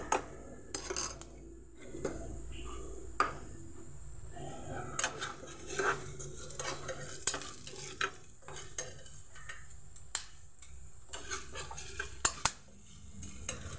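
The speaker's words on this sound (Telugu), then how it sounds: "పచ్చెనగపప్పు కొంచెం, మినపప్పు కొంచెం, ధనియాలు కొంచెం వేసుకుని ఇవైతే లైట్గా ఫ్రై చేసుకుందామండి" Chana dal, urad dal and coriander seeds lightly frying in a pan, with a steady soft sizzle under repeated scraping and clinking of a spoon against the metal pan, close by.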